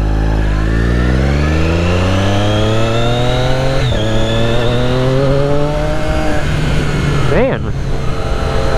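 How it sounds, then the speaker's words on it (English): A Triumph Daytona 675R motorcycle engine accelerating through the gears while riding, loud and close with rising whine, a gear change, then a sharp rev; someone talks over it. "there's a lot of interesting sounds coming from this bike that I'm not used to"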